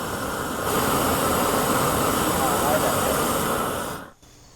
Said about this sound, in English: This is a really powerful torch